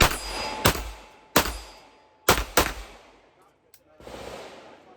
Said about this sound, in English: I'm gonna have you shoot a really good gun. This is our Tac Ultra 9mm.